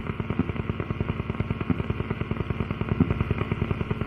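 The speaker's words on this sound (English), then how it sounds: "Helicopter sounds." A steady rhythmic chop of a helicopter passing near New York City, loud and continuous, with evenly spaced rotor pulses throughout.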